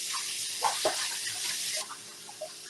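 Tap water runs steadily into a kitchen sink while raw chicken is washed, a constant soft hiss with a few small splashes and handling sounds, close and fairly quiet.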